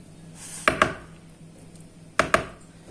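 A spoon taps against a pan of béchamel, two pairs of sharp, close knocks about a second and a half apart over faint background hiss.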